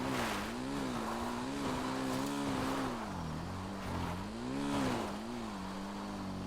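A vehicle engine drones steadily during a wheelie in GTA's Cayo Perico heist, its pitch rising and falling in smooth waves under a gritty tire and road noise, continuous and moderately loud with no talk.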